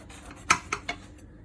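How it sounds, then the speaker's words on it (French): Knife cutting through a baked courgette tourte with a pastry crust: three short, crisp clinks and scrapes against the dish, close and fairly quiet, with no talking. "Bon, maintenant on va couper."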